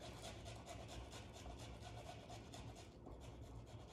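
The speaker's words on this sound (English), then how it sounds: "And then you just simply grate right on top." Steady, faint rasping of fresh ginger grated on a microplane through plastic wrap, a continuous fine scraping rhythm with no pauses.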